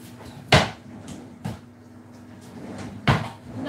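A drawer is opened and closed while someone searches, producing three distinct wooden thumps and slides a second or so apart, close and fairly loud against a low background hum.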